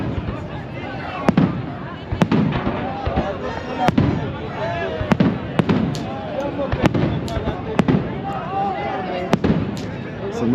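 New Year fireworks burst over a misty lake, a steady run of sharp, loud bangs and crackles spaced a second or so apart, with people talking throughout.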